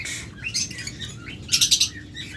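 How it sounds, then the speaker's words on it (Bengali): Yellow-collared lovebirds at a bird seller's cages chatter with high, shrill chirps and squawks, a dense cluster of sharp calls rising midway over a steady low background hum, fairly close. "ইয়েলো কলার লাভবাট দেখুন এটাও ইয়েলো কালার লাভবাট"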